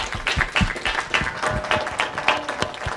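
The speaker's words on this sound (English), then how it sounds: "maybe we can give our panelists a round of applause" An audience applauds panelists after a city government and politics discussion, a steady patter of many hands clapping at moderate volume with no talking over it.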